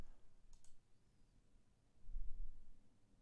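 A computer mouse gives a short pair of crisp clicks while someone programs an Android app, followed by faint desk handling noise. It is quiet and close, with no voices.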